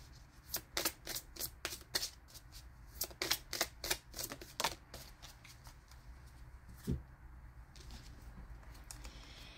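Oracle cards are shuffled in a quick series of crisp riffling bursts, then come a few separate slaps and softer card handling. The sounds are close and fairly quiet, with no voice heard.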